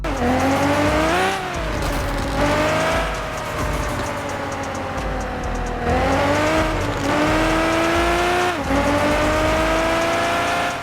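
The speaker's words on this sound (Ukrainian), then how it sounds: "А тепер давайте послухаємо звук вихлопа" A loud Mercedes G-Class 6x6 engine in Car Parking Multiplayer drones steadily, its pitch climbing through repeated gear shifts with brief drops between, heavy exhaust rumble throughout and no talking.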